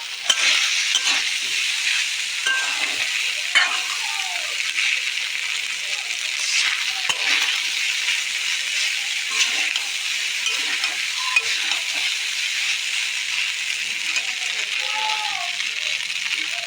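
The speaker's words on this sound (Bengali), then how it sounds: "এইভাবে নেড়ে নেড়ে জলটা শুকিয়ে যাবে। খুব ভালোভাবে নাড়তে হবে," Boiled pasta is stirred in a hot pan to dry off its water, giving a continuous soft sizzle with intermittent scraping and rattling from the spoon, while someone talks over it.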